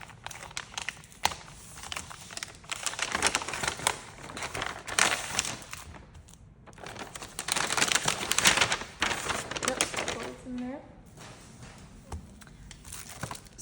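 Paper packaging holding stationery sheets being torn open by hand, a dense crinkling and ripping that swells and fades in bursts over about fourteen seconds, close and fairly loud with no talk.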